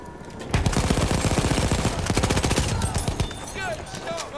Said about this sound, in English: Machine gun over there!